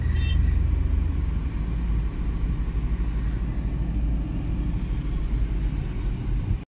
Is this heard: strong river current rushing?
no